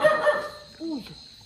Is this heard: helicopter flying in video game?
no